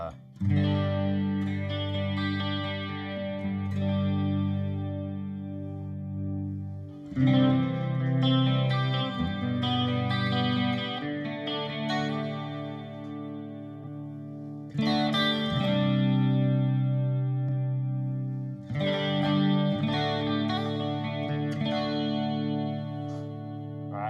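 An electric guitar played through a Headrush unit with a Blues Driver overdrive pedal engaged rings out in sustained, mildly distorted chords and phrases with chorus and echo, in several passages separated by short pauses.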